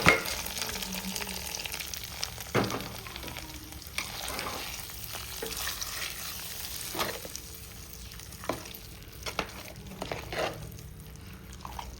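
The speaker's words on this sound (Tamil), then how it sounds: "முந்திரி பயிரை நெய்யில் வறுத்து கொட்டிக்கிறேன்." Cashews frying in ghee for a village-style moong dal pongal, a steady soft sizzle with occasional stirring scrapes and clinks, close and fairly quiet with no one talking.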